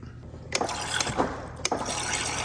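Water runs steadily from a kitchen sink faucet inside an RV, a continuous hiss and splash with a few louder gushes and clatters mixed in, close and moderately quiet.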